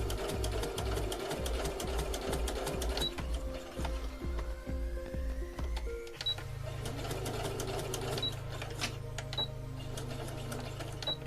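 A sewing machine stitches doll socks in rapid mechanical bursts, pausing and restarting, then runs with a steady hum and clatter; close and fairly loud, no talking.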